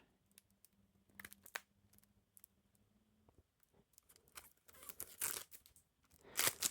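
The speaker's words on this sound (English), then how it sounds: "these cards are wrapped up, so I have to figure out how to unwrap these real quick." Plastic wrap is peeled and torn off a Silver Luxury Noc playing card deck, with soft scattered crinkles and a low hum early on, building into louder crackling tears near the end, with no talking.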